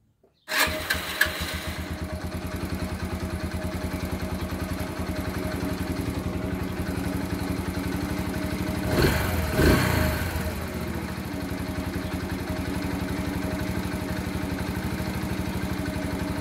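A Maya Maha XT125X motorcycle engine fires up and settles into a steady, close idle that runs throughout, with a brief rise in revs about halfway through.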